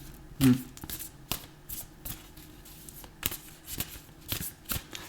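Tarot cards are shuffled by hand in a string of soft riffling bursts and light taps, quiet and close, with a short hum near the start.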